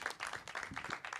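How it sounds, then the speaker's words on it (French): Audience applause for pastry contest participants at the Pâtiss'Art 2024 Dessert Signature trophy ceremony, a dense, steady patter of many hands clapping, heard at moderate distance and fairly soft. "On va quand même les applaudir, ces participants"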